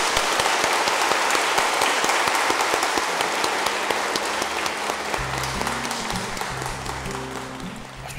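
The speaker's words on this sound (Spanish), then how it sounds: "Pues un gran aplauso para Luis Armando y Adriana." Loud, sustained applause from a celebrating crowd for the married couple Luis Armando and Adriana, dense clapping throughout with music-like tones rising underneath toward the end.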